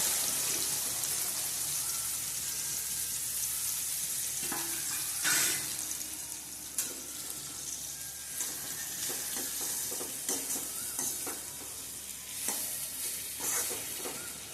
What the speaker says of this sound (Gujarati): હવે હળદર નાખી દઈશું તેલમાં, અને હવે નાખી દઈશું ભીંડો।